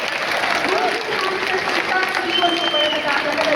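Loud, dense applause from a large audience at a devotional music concert, steady throughout the short stretch with a constant crowd wash.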